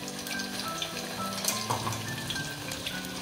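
Steady crackling sizzle of masala paste frying in hot oil for mutton curry, with soft sputters and faint scraping, close and continuous, no voices.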